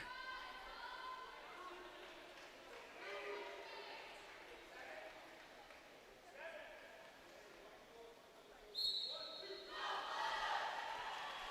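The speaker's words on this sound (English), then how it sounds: "Wolverines bench cheering their team on." A women's water polo team bench cheers and yells from the poolside, ragged bursts of shouting rising and falling over distant arena ambience, growing louder and more sustained toward the end.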